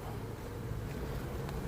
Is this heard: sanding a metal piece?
no